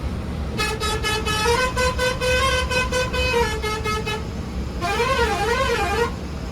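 A brand-new luxury semi-sleeper bus sounds its musical horn: a loud run of quick pulsed tooting notes lasting several seconds, then a warbling rising-and-falling horn tune, over a low engine hum.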